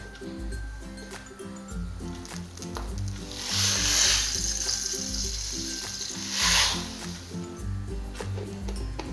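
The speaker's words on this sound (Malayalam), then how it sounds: "അപ്പോൾ നമുക്ക് കടുക് പൊട്ടണ വരെ വെയിറ്റ് ചെയ്യാം." Mustard seeds sizzle and pop in hot coconut oil for a bitter gourd thoran, a steady hiss that swells twice, with a low tonal drone underneath.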